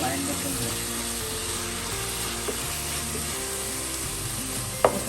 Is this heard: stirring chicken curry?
yes